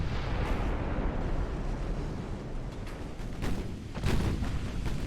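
Warship guns fire in a naval battle in Ultimate Admiral Dreadnoughts: a continuous rumbling din broken by several heavy booming shots toward the end, loud and close, with no voices.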